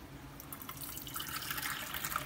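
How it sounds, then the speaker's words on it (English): Starchy pasta cooking water being poured off, a steady splashing trickle that grows slightly louder and fuller toward the end, close by with no talk. "Just saving some of that pasta water for the sauce."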